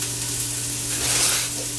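Onions, garlic and dried thyme sizzle steadily in a pot while being stirred, a continuous soft crackling hiss, moderately quiet and without speech.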